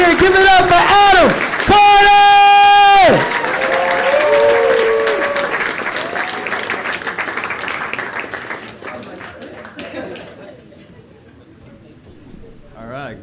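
Comedy club audience claps and cheers for a comedian taking the stage, with a loud host voice and musical tones over the opening seconds, then sustained applause that gradually fades away.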